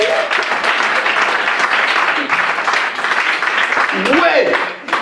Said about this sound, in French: Est-ce qu'on peut applaudir pour Dieu?